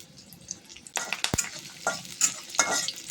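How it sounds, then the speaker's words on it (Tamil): Crushed garlic cloves and curry leaves crackle and sizzle in hot oil as they are stirred, with sharp popping bursts over a steady frying hiss, close by and moderately loud. "இந்த கருவேப்பிலை வெடிக்கும்."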